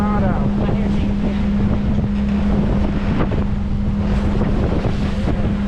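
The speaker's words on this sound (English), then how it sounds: "we were able to douse the sails and motor straight there" A sailboat with its sails doused, motoring under engine power in open water toward the Bahamas, gives a steady low engine drone with continuous wind and water noise over the microphone.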